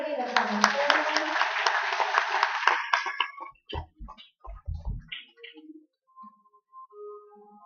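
An audience claps for young performers at a training camp, a dense burst of applause for about three seconds that breaks off into scattered speech and quiet.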